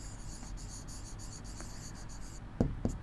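Pen or marker writing on a board during a maths lesson on rational numbers: a steady run of scratchy stroke sounds, close and alone, ending with two soft taps.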